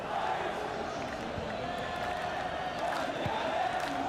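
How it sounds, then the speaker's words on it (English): Live esports arena crowd at an EA Sports FC 24 match, with a few hundred home fans booing a player; a steady, sustained roar of crowd noise fills the hall with no clear pauses. "No, listen to his boos as well."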